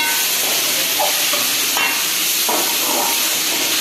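Boiled chickpeas go into a pan of sizzling masala for chana masala and get stirred, a steady frying hiss with soft scraping stirs throughout, loud and close, no talking.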